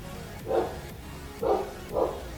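Three muffled dog barks come from somewhere in the background, spaced apart over a quiet room.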